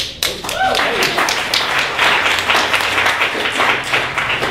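An audience at a leadership event claps loudly and steadily for several seconds, a dense, sustained wash of applause that stays even throughout.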